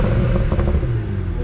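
A tuned BMW N54 engine in an E90 on a stage 1 tune, heard as a low rumbling exhaust burble close by, steady for a brief moment.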